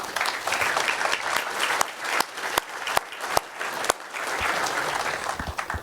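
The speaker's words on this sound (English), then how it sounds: "Let's give a round of applause for our panel." Audience at a sports sponsorship panel event clapping steadily, a dense wash of applause with a few sharp individual claps standing out, fairly faint and without talk.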